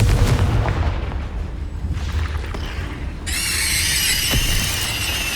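A Confringo blasting spell goes off in the video game Hogwarts Legacy, a booming burst followed by rumbling blast noise and then a bright, high ringing whine that holds to the end.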